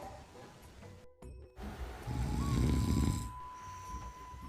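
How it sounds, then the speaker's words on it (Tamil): Loud snoring rises from a sleeping person in a staged home scene at dawn, a broad rasping swell in the middle with fainter breathing around it and a steady tone lingering beneath. "இன்னமும் கொரட்டை சத்தம் கேட்டுட்டு இருக்கு."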